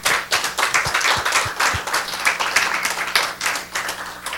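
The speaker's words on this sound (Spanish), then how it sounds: "Denle un aplauso al Señor." A church congregation claps during a Spanish-language sermon, a lively crowd of hands with distinct sharp claps standing out near the front, pulsing in loose waves for several seconds.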